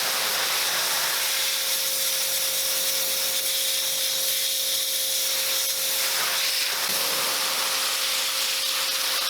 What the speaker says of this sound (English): Pressure rinse again once they've been cleaned, getting up nice and close to persuade the stubborn dirt and grime out of the crevices